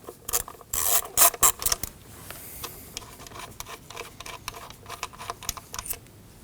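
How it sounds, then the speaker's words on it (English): An 8mm socket on a ratchet loosening the bolt that holds an engine coil pack on a Ford Edge, with close, scratchy ratchet clicks and rubbing in uneven bursts, loudest early, then softer tapping and handling noises. "Using an 8mm, we can go ahead and remove the bolt holding in the coil pack."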